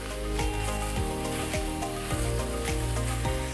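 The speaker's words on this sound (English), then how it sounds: "now that the onion got cooked a little bit, I'm going to add in the beef" Ground beef hits a hot pan of partly cooked onions over high heat, giving a steady, fairly loud sizzle that runs the whole time under a bed of tonal background music.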